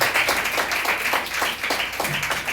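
A church congregation claps their hands together steadily, a dense continuous patter of many hands with a faint rhythmic pulse, filling the hall without pause.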